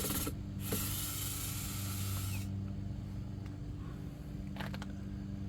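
A small Snap-on screwdriver running in reverse backs out tiny 5.5 mm bolts while a 2016 Ford F-150 wiper switch is being removed. A steady close mechanical whir and ratcheting is heard, with brief bursts of higher buzzing.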